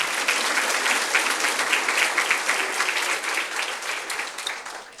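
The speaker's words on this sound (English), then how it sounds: "Please join me in giving a warm round of applause to welcome the esteemed Managing Director of GITS Foods" An audience applauds steadily to welcome the Managing Director of GITS Foods to the stage, a dense wash of clapping that holds loud and even for the whole stretch before easing slightly at the end.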